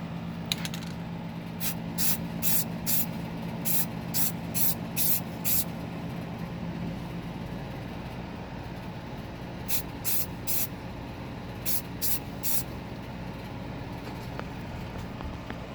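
Aerosol paint sprayed onto WPL C24 RC car bodywork in short hissing bursts, a quick run of several and then another cluster later, over a steady background hum.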